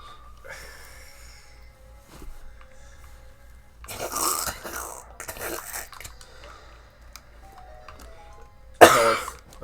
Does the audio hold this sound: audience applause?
no